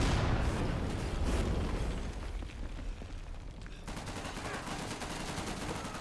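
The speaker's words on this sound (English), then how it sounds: "That was an MG." Rapid machine gun fire in Day of Infamy, a dense booming burst at first, then a steady rattle of fast shots continuing to the end.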